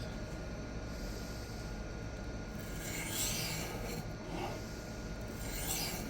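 Steady rasping scrape of a 4116 steel knife drawn over Xarilk diamond stones on a Hapstone R2 fixed-angle sharpener, continuous strokes close and even with no talk.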